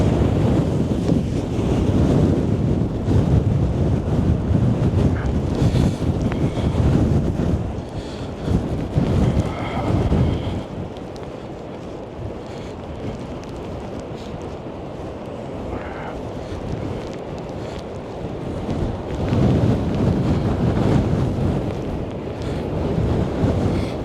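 Storm Darragh gales and surf at high tide on Blackpool promenade: loud continuous wind buffeting the microphone over rumbling breaking waves, easing slightly midway then surging again, with no voices.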